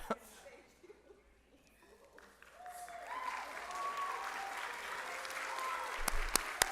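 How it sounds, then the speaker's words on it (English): Audience applause after a school spring play, a broad wash of clapping that swells and holds steady, with faint voices and a few sharp hits near the end. "Give her another round of applause."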